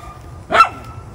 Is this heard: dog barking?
yes